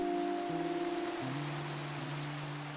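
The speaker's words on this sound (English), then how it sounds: "As the rain gently falls," Rain falls steadily in the Minecraft video game as a continuous soft hiss, layered under sustained background music tones throughout.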